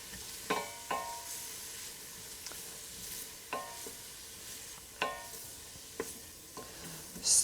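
Sliced leeks sweat gently in a pot for a classic French potage julienne Darblay, a faint soft sizzle broken by a handful of spaced clicks and taps of a spoon against the pot, quiet and unhurried.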